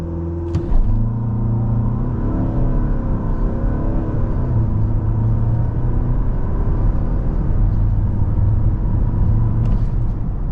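VW Tayron 2.0 TDI diesel SUV pulling hard from a standstill toward 100 km/h, a loud steady engine drone climbing through gear changes, heard from inside the cabin with road rumble underneath.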